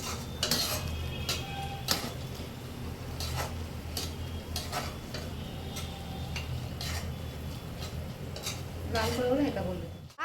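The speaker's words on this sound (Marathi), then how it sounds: "आपण ज्या भाज्या वाफून घेतल्यात ते आपण स्मॅश करून घेऊयात" Steamed vegetables being mashed in a pan for healthy cutlets, heard as a series of soft, irregular taps and scrapes of a utensil against the pan, fairly quiet and close.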